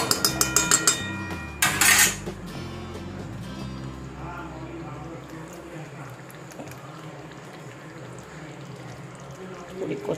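Soybean curry stirred in a pan, with a few sharp metallic clanks and scrapes of the spoon against the pan near the start, then quieter cooking sounds under a speaking voice.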